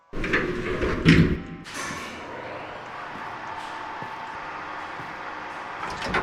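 A door opening in the horror video game Death Trips, a sharp thud and slide near the start followed by a sustained eerie ambient drone under the game's atmosphere.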